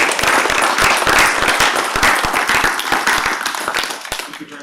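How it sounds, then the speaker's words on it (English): A council meeting audience gives a final round of applause for junior volleyball athletes, loud close clapping from many hands that tapers off at the end. "Can we please give a final round of applause for all of our junior athletes?"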